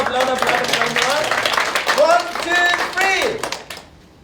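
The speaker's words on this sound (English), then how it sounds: "Okay, so applaud, applaud, applaud, applaud, applaud, applaud," An audience claps on cue at a youth forum rehearsal, scattered applause rising under a speaking voice that carries on over it throughout before fading at the end.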